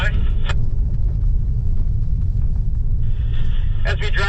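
A 2021 Ford Bronco rolls along an off-road trail during the Rebelle Rally, its engine and tires giving a steady low rumble throughout, with a voice speaking briefly at the start and again near the end.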